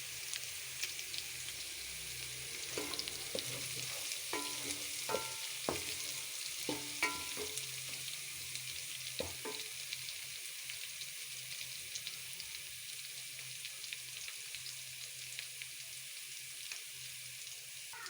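Chana dal and potatoes fry golden in a pan before tomatoes go in, giving a continuous sizzle throughout, with a scattering of sharp utensil taps and clinks in the first half.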